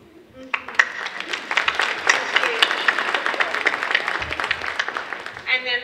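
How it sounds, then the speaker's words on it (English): Applause from a seated audience at a mayor's ball in Phenix City as sponsors stand, steady clapping sustained for several seconds at moderate volume with crowd murmur. "If y'all could stand up so we could give you a round of applause."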